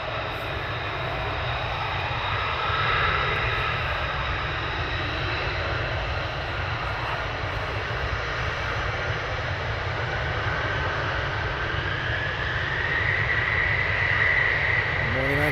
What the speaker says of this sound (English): F-35A, the conventional aircraft. They do the conventional landing and takeoffs.